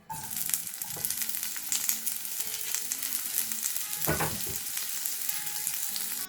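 Onions and peppers fry in a small amount of oil in a hot pan, giving a steady, close sizzle that runs throughout, broken by occasional stirring scrapes and light clinks.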